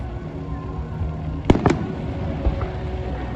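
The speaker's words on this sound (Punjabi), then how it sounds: "ਬੋਨਫਾਇਰ ਪਟਾਕੇ ਵਗੈਰਾ ਮਚਾਏ ਇੱਥੇ ਬਹੁਤ ਜ਼ਿਆਦਾ" Two sharp firecracker bangs in quick succession, then a fainter pop, over a steady background rumble of a crowded outdoor night scene with a bonfire at the Frutt in Fiore farmers' fair in Italy.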